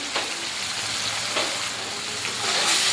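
Ginger and green chili paste, tomato paste and a pinch of turmeric fry in hot oil for a broccoli dish, producing a loud, continuous sizzle with brief bursts of stirring scrapes.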